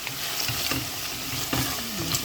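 Onions frying and being stirred in a pan for pabda fish tanga, a steady close sizzle broken by several scraping stirs, with no voices.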